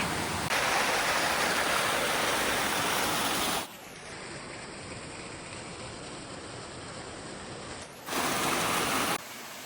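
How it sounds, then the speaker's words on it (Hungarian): A waterfall in Slovak Paradise pours into a stream behind trees, a steady broadband rush throughout that dips to a softer level midway before returning to full roar. "Ott esik a fák mögött egy újabb vízesés, beleesik a patakunkba."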